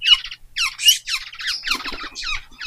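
Several wild birds squawk and screech in rapid overlapping calls, loud and close, as they are called to approach, with brief lower rustling sounds midway and no talking.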